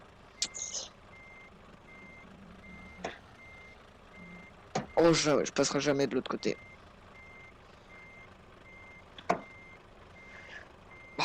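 A truck's reversing beeper in Euro Truck Simulator 2 multiplayer repeats steadily at an even pace, fairly quiet, while someone speaks, and a burst of engine or air noise rises briefly midway.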